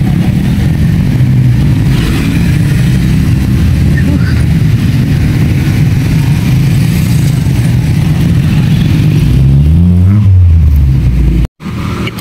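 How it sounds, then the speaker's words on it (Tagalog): A motorcycle labours uphill on a steep road, its mid-pitched engine droning steadily and close by, rising slightly near the end before a brief cutoff; a voice speaks over it. "may motor pa akyat siya, oh"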